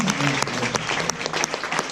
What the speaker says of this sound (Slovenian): ta prav aplaus, no, da se začnemo